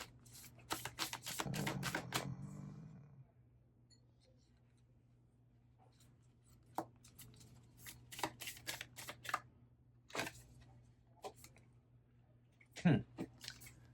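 Tarot cards shuffle close up in quick riffling bursts, then sparse soft taps and shuffles with quiet pauses between.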